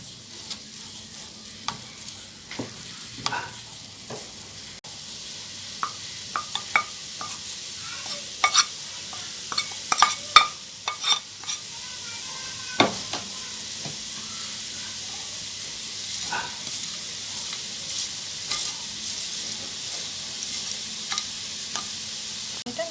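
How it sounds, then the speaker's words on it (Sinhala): Rice, vegetables, chicken and egg for chicken fried rice sizzle in a pan while a utensil stirs and scrapes in irregular clinks and scrapes over the steady frying hiss. "දැන් අපි මේ එළවලු ටිකට බත් ටික දමාගෙන කලවම් කරගමු."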